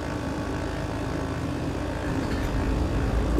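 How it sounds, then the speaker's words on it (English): A twin-engine propeller aircraft's right engine cranks and starts in Microsoft Flight Simulator, a steady droning engine rumble that builds slightly toward the end, close and continuous with no talk. "And let's hit the right engine now."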